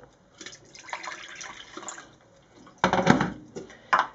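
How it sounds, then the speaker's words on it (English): Water pours and splashes into a pan of orange juice nearby, a steady trickle that ends in a couple of louder splashes. "we're going to add a little bit of water"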